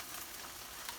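An egg cooks in butter in a hot pan, giving a steady close sizzle and crackle across the brief moment, with no voices.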